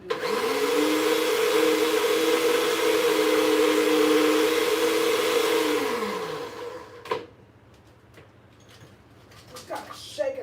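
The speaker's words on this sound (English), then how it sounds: "I never thought this cheap blender could do this." A cheap kitchen blender runs loud and steady with a high, even whine, then its pitch drops as it winds down and stops, leaving quiet room sound with a few light knocks.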